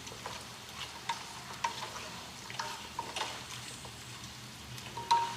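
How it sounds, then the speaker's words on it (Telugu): Chicken stirred with spices and chilli in a pot, faint soft sizzle with periodic scraping stirs and small clinks, fairly quiet and without talk. "బాగా కలిపేసుకోవాలండి ఆ స్పైసెస్ అన్నీ కూడా చికెన్కి పట్టుకునేలాగా"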